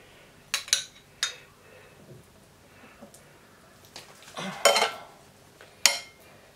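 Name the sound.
spoon applying miso marinade to beef fillet steaks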